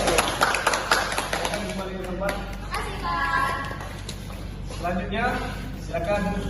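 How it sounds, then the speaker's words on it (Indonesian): A classroom breaks into quick, uneven hand clapping to applaud a student group. The claps are loudest at the start and thin out as voices start talking over them. "kasih tepuk tangan untuk kelompok 1"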